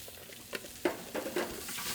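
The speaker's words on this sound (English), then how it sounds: "I'm going to add mirepoix, carrot, celery, and onion. And I'm going to give that a little bit of a saute." Chopped carrot, celery and onion (mirepoix) hitting a hot pan and being stirred, giving soft sizzling with a few scraping stir strokes, close and fairly quiet, no voices.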